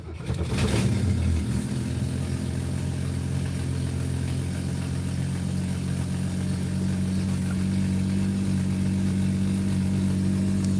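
A hot rod car engine cranked by its starter button catches with a brief rising roar, then settles into a steady, loud, rumbling idle close by, continuing evenly without talk.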